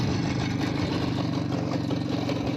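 Motorcycle engine fitted with a K-65 carburetor idling nearby, a steady low chugging rumble with a even pulse and no voices.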